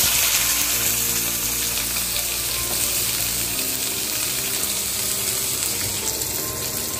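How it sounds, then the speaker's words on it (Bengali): Hog plums tipped into a pan of spice tempering for Bengali chutney set off a loud, steady frying sizzle that runs unbroken from start to finish, with a light stirring texture and no talk. "আমার ফোড়নটা ফুটে গেছে, আমি এবার আমড়াগুলো দিয়ে দিচ্ছি খুব সামান্য।"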